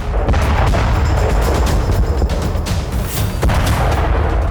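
Dense, continuous rumbling blasts with sharp cracks and booms layered over one another, loud and chaotic like heavy bombardment nearby, from bombing in the war in Ukraine.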